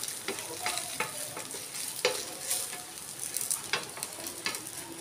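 Rava dosa batter sizzles and crackles steadily on a hot pan with oil, a soft close frying hiss with a few light scraping taps.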